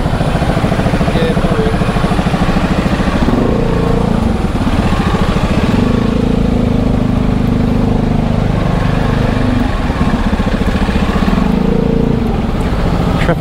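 Motorcycle engines idle and putter up close in a traffic jam along the Jomtien beachfront, a loud, continuous low throb with rising and falling revs and no talk.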